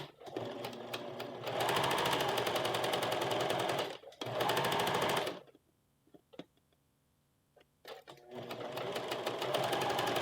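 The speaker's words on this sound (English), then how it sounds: "And now we're going to sew exactly on here again, and then it's together" A sewing machine stitches a puff sleeve cuff in long, fast, buzzing runs, pausing briefly, then stopping for a few seconds of small clicks and handling before starting up again, close and loud with no talk.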